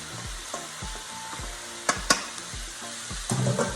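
Ground meat frying with onions in a pan for cabbage roll filling, a steady close sizzle broken by repeated low knocks of stirring and a couple of sharp scrapes, with no talking.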